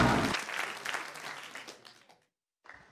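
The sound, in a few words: applause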